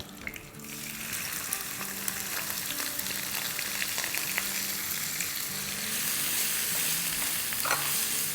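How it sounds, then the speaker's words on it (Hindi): Green chilli and finely chopped onion frying in oil over high flame, a continuous close sizzle with occasional stirring scrapes, growing slightly louder near the end, no voices. "साथ ही इसमें हम डाल देंगे 1 हरी मिर्च इस तरह से तोड़ के, और 1 कप भर के ऑमलेट कट बहुत बारीक वाली प्याज।"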